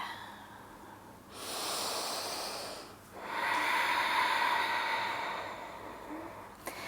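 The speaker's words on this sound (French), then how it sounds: "Inspire et expire." Slow, deep breathing during a yoga stretch, a long airy inhale followed by a fuller exhale, close and soft against a quiet room.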